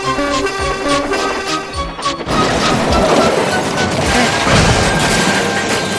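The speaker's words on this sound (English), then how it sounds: "he crashed into the wall at the end of the ship." A locomotive crashes into a wall: a sudden loud crash at about two seconds gives way to a sustained roaring clatter of debris and rumble, dense and close.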